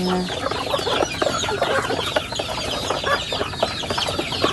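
A flock of chickens clucking continuously and busily at close range, many overlapping voices forming a dense, steady chatter.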